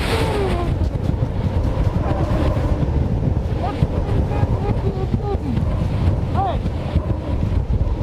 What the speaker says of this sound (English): This is about 65, maybe 70 miles an hour worth of wind.